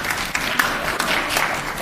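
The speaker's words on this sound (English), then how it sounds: "And a round of applause." Audience applause at a nursing and midwifery employer showcase, a dense, steady wash of many hands clapping at close range, loud and continuous with no talk.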